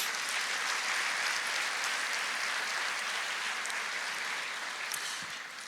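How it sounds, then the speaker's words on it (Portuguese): A church congregation applauding during a sermon, a broad, even wash of many hands clapping that holds steady and then begins to taper toward the end, heard from within the hall without speech. "aplauda o Senhor"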